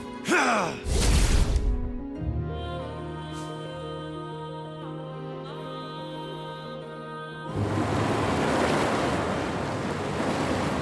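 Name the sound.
water draining away, from the video game Wuthering Waves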